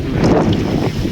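Strong wind roars and buffets the microphone in a steady, loud rush while a boat is paddled on the open sea before dawn, with no voices over it.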